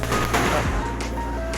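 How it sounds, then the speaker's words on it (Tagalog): Fireworks bursting at a New Year's midnight display, a dense run of loud booms and crackles that rolls on continuously with no pauses. "So ito yung fireworks."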